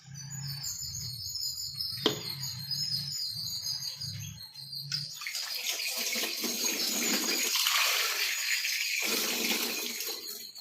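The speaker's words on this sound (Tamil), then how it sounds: "இதில் கொஞ்சம் தண்ணி ஊற்றி வச்சிடலாம்." Water pours into an iron pot holding banana flower peels, a steady broadband splashing rush that starts midway after a quieter stretch with faint bird chirps and tonal hum, continuing loud to the end.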